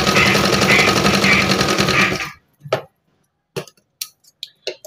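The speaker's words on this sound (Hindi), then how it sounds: "बीच में हम इसको इस तरीके से सिलाई करेंगे" A sewing machine stitches green pieces onto a bedsheet, its fast rhythmic motor chatter running close and loud for about two seconds before stopping, followed by a few scattered clicks and handling knocks.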